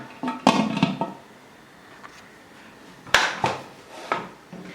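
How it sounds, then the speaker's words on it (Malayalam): A pressure cooker with salt inside gets its metal lid closed, giving a few sharp clanks and clatters close by, followed by a quiet pause and then more metallic knocks as the lid settles, with no talking. "ഇനി ഈ കുക്കർ ഒന്ന് മൂടി വയ്ക്കാം."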